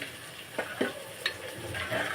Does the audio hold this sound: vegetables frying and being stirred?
yes